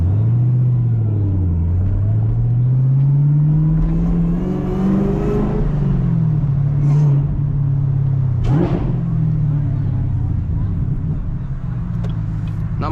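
Supercharged Chevrolet Camaro ZL1 driving at night, a loud rumbling engine heard from inside the car, rising and falling through repeated accelerations with supercharger whine, a few muffled voices underneath.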